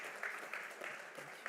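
Faint, distant applause from the audience at a startup pitch event, a thin steady patter of clapping heard from far off in the room with no clear voices.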